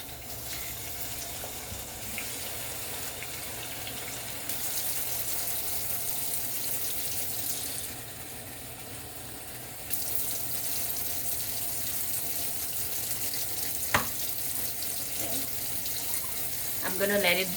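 Tap water runs steadily into a pot for spaghetti, a continuous rushing hiss that shifts in tone as the pot fills, with brief pauses and a couple of clanks near the end.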